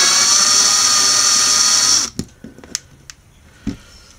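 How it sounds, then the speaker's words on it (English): A small drill whines steadily for about two seconds while grinding the top off a rivet on a Hot Wheels die-cast car, then stops, followed by a few light clicks and taps. "if you drill the top of the rivet when you're knocking the top off carefully enough"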